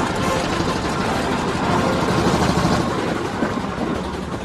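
A steam traction engine running on the road, a dense continuous rumble and hiss of working machinery with no break, close and fairly loud throughout.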